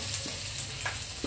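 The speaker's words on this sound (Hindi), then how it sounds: "अब इसमें शिमला मिर्च डालते हैं।" Capsicum frying in a kadai with a spoonful of oil and ginger-garlic paste, giving a steady close sizzle with a few soft scrapes and clinks as it is stirred.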